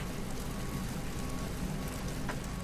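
Steady rain hisses in Microsoft Flight Simulator 2020 aboard a parked Ryanair 737 MAX 8, a dense, even patter filling the cabin without pause.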